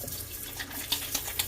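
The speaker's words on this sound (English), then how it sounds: "Turn on some warm water." Warm water runs steadily from a tap for handwashing, a soft continuous splashing stream with a few small drips and clinks near the end.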